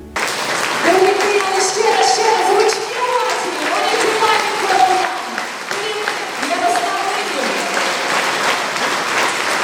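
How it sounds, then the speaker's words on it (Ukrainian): Sustained applause from a large audience at a city-day holiday concert in Brody, thanking a municipal choir, steady and enthusiastic, with a voice carrying over the clapping throughout. "бурхливими оплесками подякували йому"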